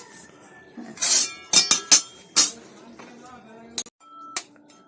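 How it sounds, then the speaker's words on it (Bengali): A metal kadai is set down on the stove with several sharp clanks and clinks in quick succession, close and fairly loud, followed by a few lighter taps in a quiet room. "কড়াইটা বসিয়ে দেবো তো কড়াইটা আমি বসিয়ে দিলাম"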